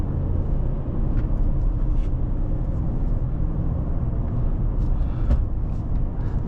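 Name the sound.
2026 Ram 1500 RHO truck engine while driving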